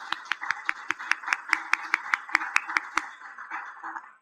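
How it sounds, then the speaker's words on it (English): Sparse, rhythmic hand claps from a small gathering at a poetry celebration, about twenty sharp, evenly spaced claps ringing out close and clear over a quiet background, slowing and fading toward the end. "I'd like to give him a round of applause, please, everybody"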